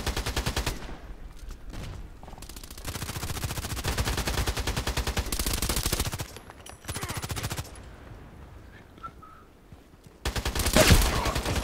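Gunfire in the shooter game ADXsniper: rapid automatic bursts and volleys of shots, loud and close, repeated over several seconds with brief lulls, no talking.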